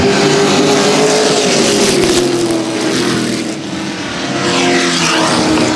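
Race trucks roar off at a green-flag start at Central Texas Speedway, a loud dense engine drone that swells and dips slightly as the pack accelerates past, with no voices.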